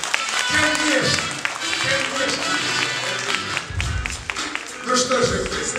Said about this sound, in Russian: Давайте как-то приветствуем просто друг друга бурными аплодисментами.